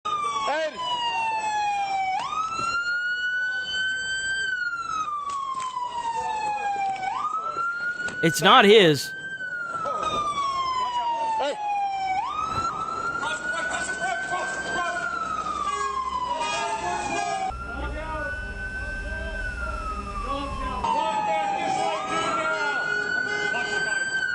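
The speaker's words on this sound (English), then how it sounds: "Who's got the goddamn siren on, dude?" Police car siren wailing loudly in an underpass, its rising and falling tone echoing off the walls almost continuously, with a brief burst of noise midway and people shouting over it.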